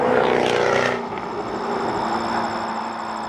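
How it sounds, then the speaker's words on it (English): A 2015 Jaguar F-Type V8 S sports car's engine and exhaust fill the first second with a loud roar, then drop to a steady, lower drone with a sustained hum, like the car passing or easing off. "The sound of this V8 is amazing."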